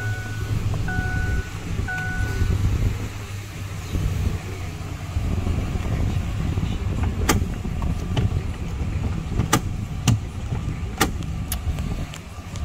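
A 2007 Ford F150 XLT pickup engine runs at a steady, even idle, a constant low hum heard from inside the cab, with a few sharp clicks and taps near the end.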